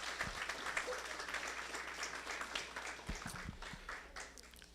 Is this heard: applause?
yes